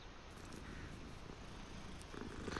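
Cat purring in the video game Hogwarts Legacy, a steady soft rumble held for a few seconds at a low, even level with no talking.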